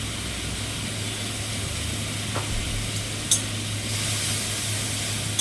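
Mutton masala sizzling steadily in a pan after a spoonful of salt goes in, a continuous close frying hiss with a faint stir or scrape partway through and a low steady hum underneath.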